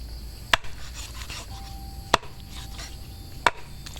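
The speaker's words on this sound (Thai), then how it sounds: "ตอนนี้ก็หั่นเป็นชิ้นอยู่แล้วค่ะ" Pork being chopped into pieces on a board for Thai braised pork, three sharp, close knife chops spaced about one and a half seconds apart over a quiet background.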